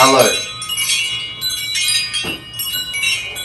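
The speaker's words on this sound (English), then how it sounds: "I love wind chimes, and we've got even the cowbell wind chimes." Cowbell-style wind chimes ring in a loose cluster of bright metallic clanks and tinkling tones, several strikes spread irregularly with lingering ring, close by with no talk.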